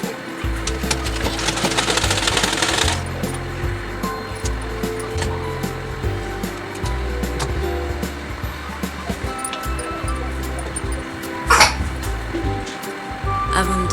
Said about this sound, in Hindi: इस तरह से पूरे बाजू को सिलाई कर लेना है।